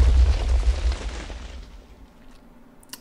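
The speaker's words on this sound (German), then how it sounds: "weil das TNT vorher noch explodiert ist" TNT explosion from a cannon in the video game Minecraft: a loud, deep boom that rolls and decays over a couple of seconds, followed by a small faint pop near the end.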